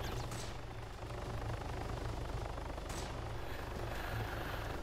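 Helicopter in a video game, a steady low rotor drone with engine rumble holding continuously throughout, with a faint noisy wash above it and no clear talk.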